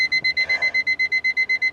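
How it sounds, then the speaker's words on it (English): A 1987 Toyota Camry car alarm beeps in rapid, evenly spaced pulses, loud and close, about seven pulses per second. "and that's the alarm."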